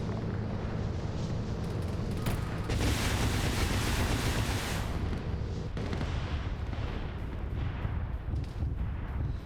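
Rocket strike bombing in a military video game: a sustained, heavy rumbling barrage of explosions swelling into a dense roar, then trailing off into fainter distant blasts.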